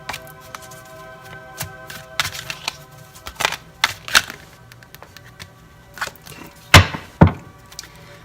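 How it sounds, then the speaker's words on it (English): Tarot cards being shuffled by hand, heard as soft papery riffles and scattered taps, with a few sharper slaps of the deck near the end; close and fairly quiet, with no talking. "Struggling with shuffling today."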